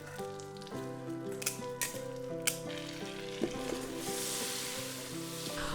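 Broken pasta browning in melted butter for almond rice pilaf, a soft steady frying sizzle with a few spoon clicks, beneath sustained background music tones and growing slightly louder toward the end.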